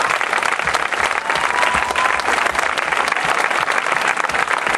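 Loud, dense applause from an outdoor concert audience in a garden, honoring the symphony orchestra's musicians, with a continuous roar of clapping across the whole stretch.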